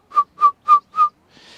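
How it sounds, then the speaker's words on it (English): A single person whistles four short, clear, evenly spaced notes, close and fairly loud, followed by a faint breathy hiss as the last note fades. "That's as much as I can whistle."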